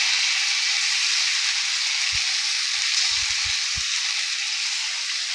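Peanut, chili and garlic paste frying in a pan for a Bengali drumstick mash, a steady bright crackling sizzle throughout with a few soft low thumps, no talking.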